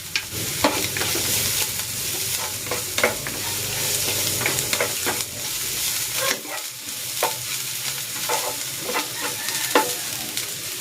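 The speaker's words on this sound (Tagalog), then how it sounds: "At itong sibuyas. Igisa ko na rin tong bawang." Garlic and onion sauté in a pan with a steady close sizzle, broken by frequent clinks and scrapes of a utensil stirring, while the base of the kinunot na galunggong dish cooks.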